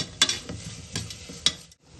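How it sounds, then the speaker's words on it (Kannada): Onion and tomato fried in a pan for a vegetable kurma. A spoon scrapes in three distinct strokes over a light, steady sizzle, close and clear. "ಈರುಳ್ಳಿ ಮತ್ತು ಟೊಮೊಟೊ ಹಸಿ ವಾಸನೆ ಹೋಗೋ ತನಕ ಚೆನ್ನಾಗಿ ಫ್ರೈ ಮಾಡ್ಕೊಳ್ಳೋಣ."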